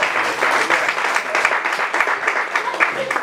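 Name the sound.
church congregation applauding the Lord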